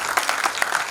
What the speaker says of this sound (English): So a very big round of applause to Maruti sir.